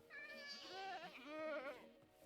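A screaming goat in Minecraft gives one long, wavering, shrill bleat that rises and warbles for about two seconds, close and alone.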